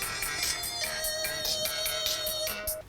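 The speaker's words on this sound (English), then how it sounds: "That's a sick ringtone. Is this atonal banjo music?" A phone ringtone that sounds like atonal banjo music plays for a few seconds, with rapid plucked notes in an irregular, jangly pattern, close and fairly loud.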